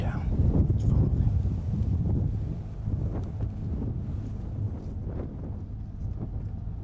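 Wind gusts buffet the microphone as hunters face straight into it while stalking a buffalo herd on a hunting safari, a steady low rumble with brief thumps of movement under quiet speech.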